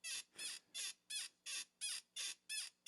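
Eight evenly spaced, high squeaks repeat in a steady rhythm, like a creaking chair, forming the intro of a song, faint and alone.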